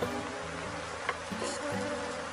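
Bees from a swarm buzz continuously around hive boxes, a dense mid-level insect drone with a few closer passes standing out.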